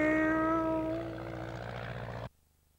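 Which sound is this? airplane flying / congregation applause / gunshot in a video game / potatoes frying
airplane flying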